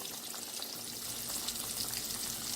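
Coated calamari or whiting fish drops into hot oil in a big old pot and fries, a steady bright crackling hiss that stays even and close throughout, with no talking.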